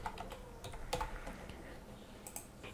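Fingers typing a password on a computer keyboard, a quick run of light key clicks, close and quiet, fading into sparse taps.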